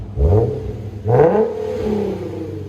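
A 2016 Infiniti Q70 S 3.7L V6 aftermarket exhaust revs hard twice in quick succession, a deep throaty roar that rises and falls before settling back to a low rumble.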